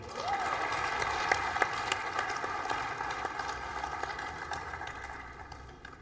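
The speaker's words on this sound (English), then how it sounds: "once again, a very warm applause for these deserved awardees for the oral presentations" Conference audience applauding awardees for oral presentations, a sustained roomful of clapping with dense sharp claps that gradually thins and fades toward the end.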